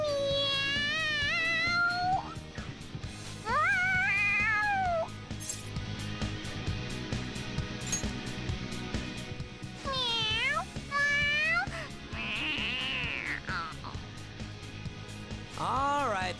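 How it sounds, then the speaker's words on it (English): In the Persona 5 Royal video game, a cat meows excitedly several times inside Kamoshida's palace, loud, wavering calls spread across the scene over background game music, with characters' voices in between. "The cat's acting awfully excited."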